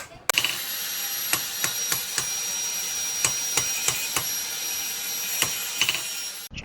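An electric grinder runs steadily while shaping a Makassar badik blade, a loud continuous high whine broken by repeated sharp clicks or taps of metal contact, close up with no talking.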